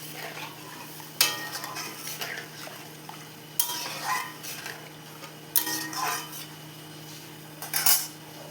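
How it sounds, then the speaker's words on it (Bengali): Vegetable biryani masala is stirred and sautéed in a pan under a soft constant sizzle, with four spaced bursts of spoon scraping and clattering against the metal, close by. "তারপরে কিছুটা জল দিয়ে আমি ভালোভাবে আবারও তাকে"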